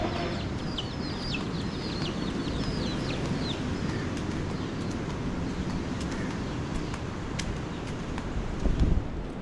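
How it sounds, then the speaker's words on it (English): Chickens, roosters and small chicks cluck and chirp steadily outdoors on an island in the Maldives, layered over constant wind noise, with a few brief, sharper calls standing out. "Chicken, roosters, hey, chicks, little chicks."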